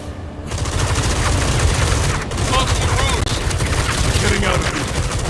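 Gunfire in Batman: Arkham Shadow rolls on as a dense, loud barrage that runs almost without a break, with shouting voices partly buried beneath it.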